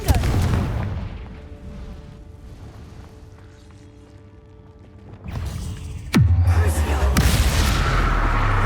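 A Confringo fire spell blast in Hogwarts Legacy goes off in a cave, a sudden loud burst with a rushing, sweeping tail followed by a sustained roar, after a quieter rumbling stretch.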